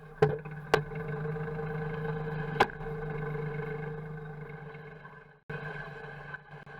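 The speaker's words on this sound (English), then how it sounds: "And that's a 1958 model tractor." A 1958 Massey Ferguson 35X tractor at a Western Australian ploughing match, hitched to a three-furrow plough, runs with a steady, close engine drone and a few sharp knocks, then cuts out briefly before resuming.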